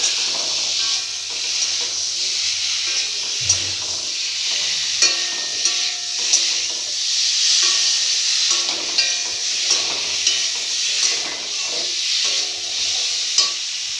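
Potato pieces sautéing in a pan for a vegetarian papad curry, giving a steady close sizzling hiss with occasional stirring scrapes and clinks throughout, no voices.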